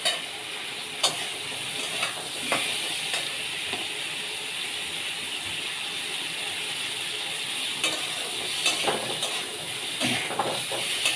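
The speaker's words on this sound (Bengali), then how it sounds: "একটু নেড়ে চেড়ে নেবো, বেশি ভাজবো না এটা বরবটিটা।" Yardlong beans stirred and briefly fried in spices in a pan, a steady hiss of sizzling oil with occasional scrapes and clinks of the spoon, close and continuous, with no voices.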